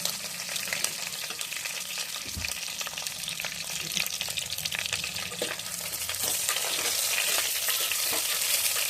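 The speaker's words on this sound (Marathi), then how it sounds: "वांगी छान हलवून घ्या" Stuffed brinjals stirred in a clay pot, giving a continuous close sizzle with scraping stir strokes and occasional soft knocks, growing slightly louder toward the end, with no talk.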